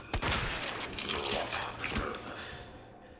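Rapid burst of gunshots in the Resident Evil 2 Remake video game, several sharp cracks in quick succession at the start over a dense, loud game soundscape, no talk.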